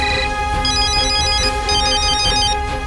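A loud electronic ringtone plays a repeating melodic pattern, ringing continuously and close by with no voices.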